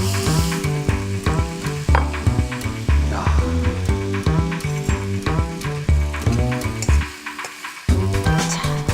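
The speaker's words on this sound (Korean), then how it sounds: "전달이 잘 되게끔 이렇게 볶아주시면 되겠어요" Food is stir-fried in a pan on a cooking show, with continuous close sizzling and repeated scraping, clinking strokes of a utensil against the pan, briefly pausing near the end; a voice speaks a word.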